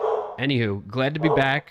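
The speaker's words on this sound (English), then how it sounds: "Sorry for the background noise with Bauer barking" A dog named Bauer barks in the house in short yelping bursts, close and fairly loud, mixed in with someone talking over it.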